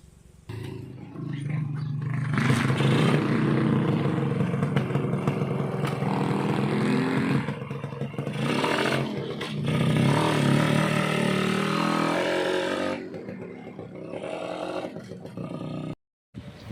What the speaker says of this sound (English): I'm going to drop off the boy early by taking him on the motorbike